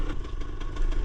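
A Yamaha DT 200 dirt bike engine, stuck during an enduro ride along a village stream track in Sri Lanka, runs steadily and roughly up close for the whole second, with a slight surge near the end.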